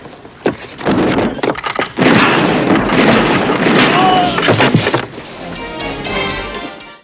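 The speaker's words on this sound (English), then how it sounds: "Fantastic explosion" Movie explosion from the 1985 action film Rambo: First Blood Part II, with an RPG blowing up a boat: loud, sustained roaring blasts and rumbling debris that fill the clip, ending in a fading crackle.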